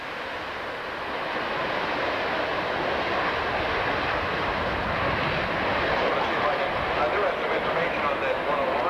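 CF-101 Voodoo jet fighters fly overhead with a loud, steady, broadband jet roar that swells within the first second and then holds continuously throughout.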